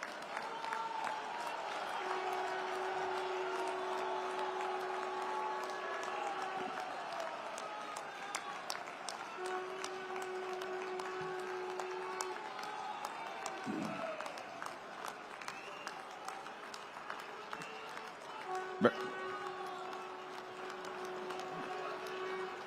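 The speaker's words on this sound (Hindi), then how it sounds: "1 मिनट तक तालियां बजाकर उनका अभिनंदन करें" A large crowd at a flyover inauguration event applauds, with sustained faint clapping and murmur over the whole span, distant-sounding. A tone recurs, and a sharp knock stands out near the end.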